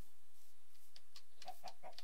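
A Minecraft chicken clucks in the game world, giving a handful of soft, quick clucks that bunch together toward the end over a low, quiet game ambience.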